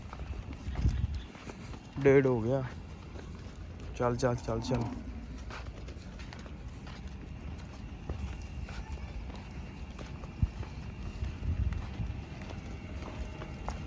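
Buffaloes being let out and walking through a village in Pakistani Punjab on Vaisakhi day, their hooves clopping in loose, uneven steps beneath near, steady talking and shouted calls urging the animals along.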